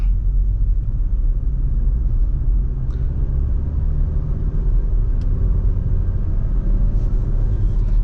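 Steady low rumble of a Maruti Suzuki Victoris with a manual gearbox pulling in third gear from roughly 35–40 km/h, heard from inside the cabin with no voices, the engine drone even and continuous throughout.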